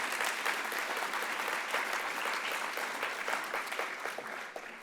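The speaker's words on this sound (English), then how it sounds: "can we get a round of applause for our up-and-comers?" Audience at a mentoring gala breaks into dense, sustained applause, a full room of hands clapping steadily and loudly before fading slightly at the end.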